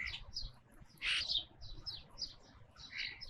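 European starlings, a red-winged blackbird and a grackle gather at a peanut feeder outdoors, giving repeated short chirps and whistles with one louder harsh call, fairly close over faint background noise.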